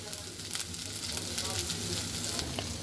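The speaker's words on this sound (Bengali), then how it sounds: "আমার কিন্তু পেঁয়াজটা খুব সুন্দর মতন ভাজা হয়েছে পেঁয়াজটা কিন্তু নরম হয়ে আসছে আমি এটাকে আরও ভাজবো" Onions and small salted prawns fry in a pan with a soft, continuous sizzle and crackle, fairly quiet and close, with light stirring scrapes.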